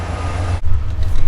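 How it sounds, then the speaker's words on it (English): A passing train rumbles close by with heavy low-frequency noise, heard outdoors beside an idling 1998 school bus; the sound stays loud and steady throughout. "Hold on, there's a train."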